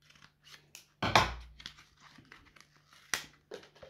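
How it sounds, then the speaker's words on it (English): Scissors snip and crinkle through the foil packaging of Elestrals trading card packs, with a loud crackling cut followed by scattered rustles and a second sharp snip. "I'm just gonna use scissors."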